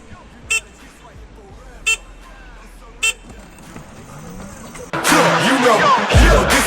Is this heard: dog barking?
no